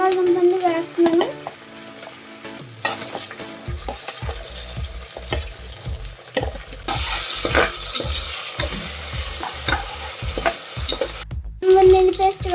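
Onions and potatoes frying in oil in a pan, a loud continuous sizzle with frequent rhythmic scraping and clinking stirs of a spoon close by, growing more intense midway, with no talk.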